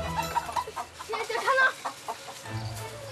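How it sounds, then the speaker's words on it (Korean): A chicken clucks repeatedly while being chased into a dead end, its agitated calls close and uneven over scuffling and faint background voices. "이리 뛰고 저리 뛰다가 드디어 닭을 막다른 길로 모는데 성공했습니다"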